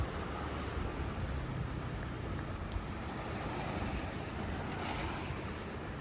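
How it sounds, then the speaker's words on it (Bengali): Steady, rushing roar of ocean surf washing onto a Maldives beach, continuous and fairly loud, mixed with gusty wind buffeting the microphone. "পানির শব্দ আপনারা শুনতে পাচ্ছেন"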